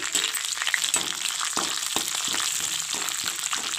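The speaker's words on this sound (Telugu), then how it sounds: "నూనె వేసుకుని తాలింపు పెట్టుకుంటున్నాను" Oil tempering for amaranth leaf fry crackles and sizzles loudly in a pan, a dense, continuous spitting with quick popping bursts.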